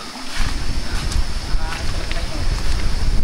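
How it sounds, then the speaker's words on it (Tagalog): Flowing water near a Mangyan settlement, a steady broadband rushing wash that fills the scene continuously at moderate loudness, with some wind-like noise layered in. "Narinig din natin yung katubigan na umaagos."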